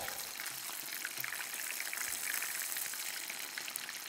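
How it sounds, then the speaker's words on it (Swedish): Food deep-frying in hot oil gives a dense, even crackling hiss, fairly quiet but continuous and close, with no voices. "När man har friterat som jag gör här nu"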